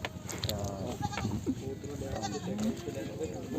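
Goats bleat at a livestock market in Kothe Kaur Singh Wala, Punjab, during the first trade of the day. Several short, wavering bleats rise from the animals nearby, partly under the steady chatter of traders.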